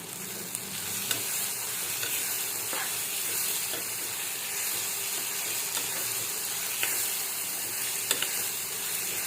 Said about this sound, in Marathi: आता हे कांदा सोनेरी रंग होईपर्यंत परतायचा